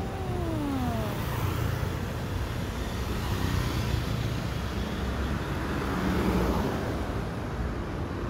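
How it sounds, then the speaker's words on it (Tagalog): Motorcycles pass in city street traffic, a fairly faint, continuous roadway drone with engine swells rising and fading as the vehicles move by. "Bagal naman na itong mga motor na to."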